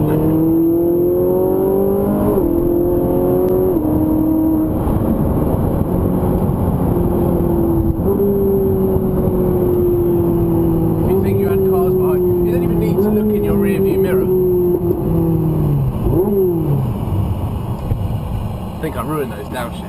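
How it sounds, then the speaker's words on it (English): Ferrari 458 Italia supercar engine revving loudly up and down through the gears as it downshifts while driving, with someone talking over the steady engine roar throughout. "I think I ruined those downshifts."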